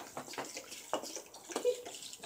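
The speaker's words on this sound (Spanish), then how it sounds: "Te voy a echar agua de esta en las patas" Water splashes and pours in short, uneven bursts, close and moderately loud, as it is tipped out onto potted plants.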